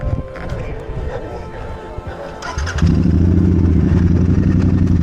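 Racing motorcycles on a circuit grid at a GT Cup national series event rumble at idle, a steady loud engine drone starting up midway beneath nearby voices.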